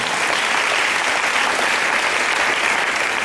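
Church congregation clapping loudly and continuously in a steady, dense wash of applause, acclaiming the Lord.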